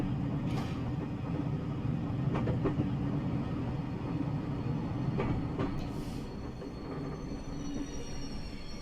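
A Class 506 electric train in Train Simulator Classic rumbles steadily as it accelerates slowly, with a low continuous motor drone, faint wheel clicks and brief squeals over the run, no voices.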